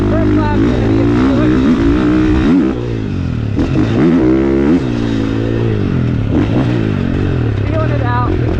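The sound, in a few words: 450cc dirt bike riding on motocross track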